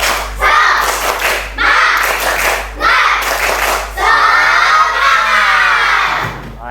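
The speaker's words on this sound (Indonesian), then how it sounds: "silakan tepuk semangat" A school class does tepuk semangat, rhythmic group clapping in bursts separated by short pauses, loud and close, ending in a longer sustained run of clapping with voices mixed in.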